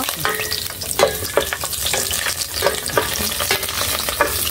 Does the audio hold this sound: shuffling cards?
no